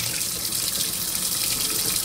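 A makeup brush, foamed with cleanser, is rinsed under a running bathroom tap: a loud, steady hiss of gushing water close by, continuous throughout with no voices.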